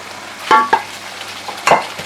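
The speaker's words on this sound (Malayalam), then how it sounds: "നമുക്ക് ഇനി ഇതിലോട്ട് വേവിച്ചിരിക്കുന്ന കപ്പ ചേർത്ത് കൊടുക്കാം" Cooked tapioca being stirred into boiling beef bone gravy, a few wet scraping and clunking spoon strokes against the pot over a low bubbling background.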